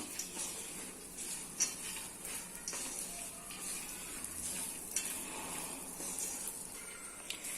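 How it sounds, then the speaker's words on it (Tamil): Raisins, walnuts and cardamom powder are dry-roasted in a pan, giving a faint continuous sizzle with scraping stirs and a few sharp clicks of the spoon against the pan. "இது எல்லாத்தையும் சேர்த்து நல்லா வறுத்துக்கிறேன்."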